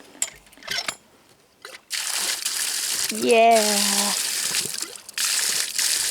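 Water gushes and splashes from a newly installed well pump line after a stretch of quiet, a steady loud rush with sputtering, and people talk and cheer over it.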